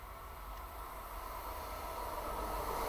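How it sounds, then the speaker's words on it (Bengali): A MEMU train approaches on the down line, a faint broadband rumble and hiss that swells gradually over a few seconds, heard without talk. "ডাউনে একটা দেখো মেমু ট্রেন আসছে তোমার"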